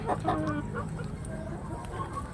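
Soft clucking from a young Asil chicken, a future breeding cock, in a backyard flock; a few low, close calls over steady background noise.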